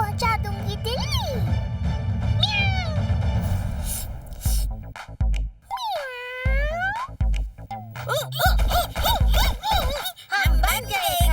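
A cartoon cat meows several times in rising, wavering cries, loud and close, with a cartoon voice speaking around the calls and a dog-like yelp mixed in.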